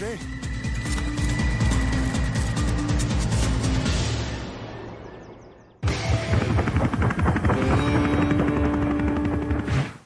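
A loud, steady roar from a huge helicopter with deep rotor thumping that fades away, then cuts back in abruptly at full strength.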